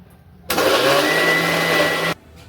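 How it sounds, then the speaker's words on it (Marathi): An electric mixer blends apple with sugar and milk, whirring loudly and steadily for under two seconds, a high buzzing motor with a low hum, then cuts off abruptly. "आणि मिक्सरला फिरवून घेऊ।"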